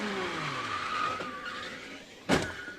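An IndyCar race car at the 2017 Bommarito Automotive Group 500 loses grip and spins out, a tyre skid with falling engine pitch followed by a sharp impact-like burst near the end.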